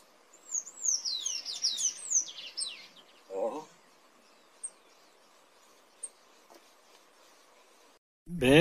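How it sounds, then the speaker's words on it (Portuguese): Small wild bird singing on a hillside trail near Claraval, Minas Gerais: a bright run of rapid descending whistled notes in the first seconds, then sparse faint chirps over a quiet steady hum, ending in a loud rustle. "Passarinho canta bonito."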